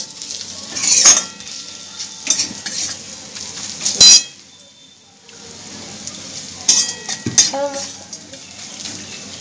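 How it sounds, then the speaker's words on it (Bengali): Ground coriander, cumin and turmeric powders fry in a pan with a soft sizzle, broken by a spoon scraping and clinking against the metal in irregular bursts. "মশলাগুলোকে খুব ভালো করে ভেজে নিচ্ছি।"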